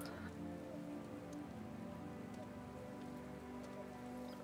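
Rain sound effect played during a World of Tanks stream, a quiet, steady patter of raindrops on a surface with no talk over it.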